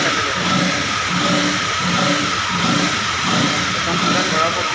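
Honda CBR 250 motorcycle engine held at a steady, slightly raised rev during a coolant refill, a continuous mid-pitched hum with gentle rhythmic swells while people talk nearby.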